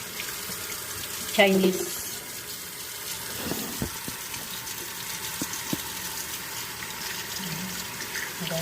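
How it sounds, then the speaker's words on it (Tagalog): Tap water runs steadily into a kitchen sink while meat is rinsed for marinating, a soft continuous splash with occasional clinks, and someone speaks over it. "Hugasan muna natin"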